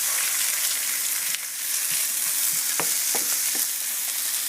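Vegetables frying in oil in a pan for a swordfish puttanesca, a steady loud sizzle with a few sharp clicks and stirring knocks, no voices.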